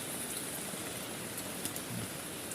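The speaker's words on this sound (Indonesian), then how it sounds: "Inilah teman-teman kalau camping hujan lebat, hujan deras beginilah terjadinya teman-teman" Heavy rain pours down on a riverside campsite, a steady, unbroken hiss of dense falling water that stays even and close for the whole stretch.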